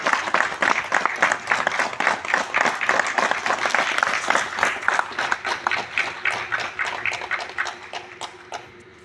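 An audience at an Atomy India event claps loudly for the company's sales masters, a dense, rhythmic burst of many hands close by that holds steady and then gradually thins and fades toward the end.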